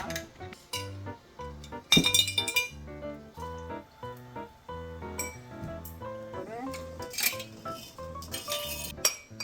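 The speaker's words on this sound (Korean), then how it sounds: "끓는 물에 유리병을 넣고 소독을 합니다." Glass jars clink and knock repeatedly up close in boiling water, with bright ringing taps and a few sharper impacts, over a soft bubbling and rustling background.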